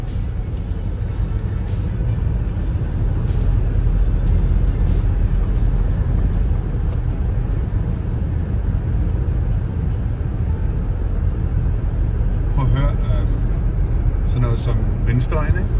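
Cabin noise of a 2022 Ford Mustang Mach-E electric car accelerating on a German motorway: a steady, loud broadband road and wind roar, with a few brief knocks near the end and no talk.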